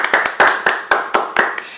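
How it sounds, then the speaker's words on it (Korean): Several close, sharp hand claps in an uneven rhythm, about eight distinct slaps, loud and near, with a brief voice at the very end. "여기도 박수 한번 치고 가야죠."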